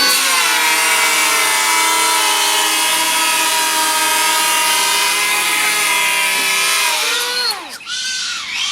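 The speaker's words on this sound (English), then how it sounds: "I'm going to put all the planers on 1 millimeter depth setting." Several cordless 18V power planers, DeWalt, HiKOKI, Makita and Milwaukee, cut timber at a 1 mm depth setting, producing a loud, steady high-pitched whine with a droning motor tone that winds down near the end.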